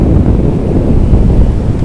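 Sea waves and strong wind on the beach at Puri make a loud, constant low roar and rumble, with wind buffeting the microphone throughout and no voices heard.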